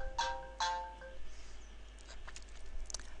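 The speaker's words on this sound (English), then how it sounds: "The mobile phone is ringing shortly" A mobile phone rings while a call is being connected, giving two short, bright tonal bursts close to the microphone, followed by faint clicks and a quiet hum.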